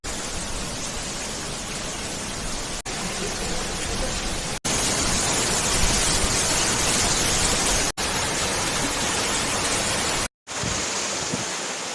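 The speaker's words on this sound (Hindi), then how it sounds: "वहाँ पे आपका वाटरफॉल है" The Phurli Jharan waterfall roars with flowing water in a dense, steady rush that fills the whole clip. The roar cuts out briefly a few times.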